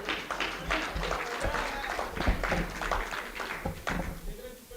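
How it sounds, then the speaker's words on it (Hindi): An audience at a Hindi poetry recital claps steadily, a dense wash of hand claps and crowd noise that stays at an even level throughout. "तालियां उठाओ साहब, मजा लाना चाहिए।"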